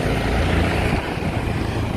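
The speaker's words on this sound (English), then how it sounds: "Oh, look, the helicopter is landing." A landing helicopter, heard from a New York City ferry, makes a steady, loud engine-and-rotor drone with deep low rumble, continuous throughout with no voices.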